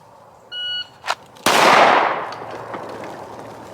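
A Glock 19 pistol in a holster draw drill on a shooting range: an electronic shot-timer beep, then one sharp, loud gunshot whose echo decays over the next two seconds.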